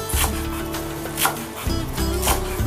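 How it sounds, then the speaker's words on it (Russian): A knife chops green onion on a cutting board for a dumpling filling. The close, crisp strokes come in quick rhythmic bursts. "Нарезать лук."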